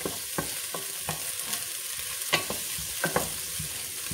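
Onions stirred and frying in a pan make a steady close sizzle broken by regular scraping strokes of a spoon, roughly every half second.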